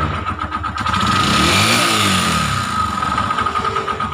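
A Honda TMX Alpha motorcycle engine being checked for trouble, running steadily up close with a loud, continuous mid-pitched drone and a slight swell in revs partway through, no speech.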